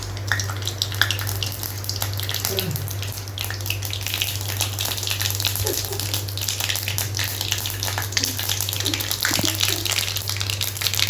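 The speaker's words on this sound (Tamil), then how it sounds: "எண்ணெய் காஞ்சிருச்சு, கொஞ்சம் கடுகு போட்டுக்குவோம்." Mustard seeds sizzling in hot oil in a pan while chicken leg fry is prepared, a constant close hiss with scattered small pops and a steady hum underneath.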